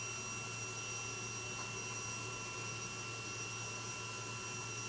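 Electric fuel pumps on a car run as a constant, even whine and buzz, steady and unbroken throughout at moderate loudness, with no voices.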